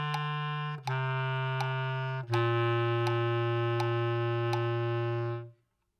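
A solo bass clarinet plays the opening Hot Cross Buns phrase, sustained low notes in three separated held tones with brief breaks, close and clear with no other sounds.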